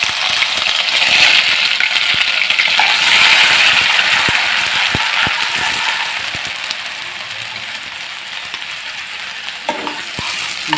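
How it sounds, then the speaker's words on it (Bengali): Onion paste frying with fried eggs in a pan, a steady close sizzle with scraping and clinking of a spatula as it is stirred, easing slightly toward the end. "নাড়াচাড়া করে একটু বাদামি কালার করে ভেজে নেব।"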